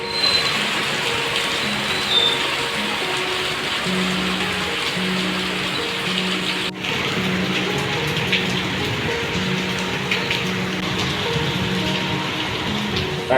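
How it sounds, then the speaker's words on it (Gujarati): Heavy rain pours steadily in a dense, continuous hiss in Surat, with a low hum running underneath and no voices. "વરસાદ એવો વરસે છે"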